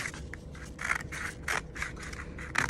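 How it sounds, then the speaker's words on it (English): Scissors snip through two stacked sheets of paper for a paper lantern craft, giving a steady run of close, crisp cutting strokes in an otherwise quiet room. "my scissors is cutting through both pieces"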